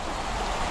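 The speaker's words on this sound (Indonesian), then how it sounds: "Wow, kita sampai di air terjun Banyumala." Banyumala twin waterfall in Bedugul, Bali, a dense, steady rush of falling water, loud and close, lasting under a second with no talk.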